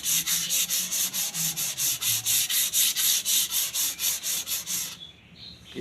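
Fine sandpaper is rubbed by hand over a wooden chair, a close, rhythmic scratching in about twenty even back-and-forth strokes that stop near the end.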